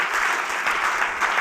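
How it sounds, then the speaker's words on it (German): A church congregation in the Kalkofen gives a brief burst of loud, hearty applause during an online sermon service, with even, continuous clapping throughout. "Geben wir ihnen einen recht herzlichen lauten Applaus hier aus dem Kalkofen raus."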